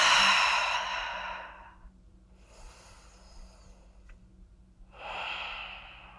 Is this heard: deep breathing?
yes